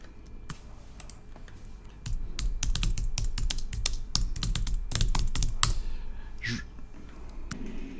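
Rapid bursts of keystrokes on a computer keyboard, with uneven clicking rhythm at close range over a low background hum, no clear talk.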